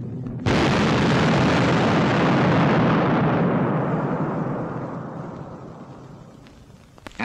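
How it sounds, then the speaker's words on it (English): A huge ten-ton bomb detonates in a 1945 wartime test filmed from a distance, a sudden deep blast swelling into a long rolling rumble that slowly fades over several seconds, with no voices. "The feature of the big bomb is the crater it makes before it goes off."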